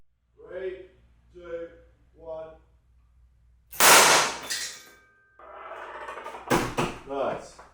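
After a few quiet spoken phrases, fired blanks shoot a hammer mechanism out with a sharp metallic bang, followed by clattering and a second loud crack with rattling noise.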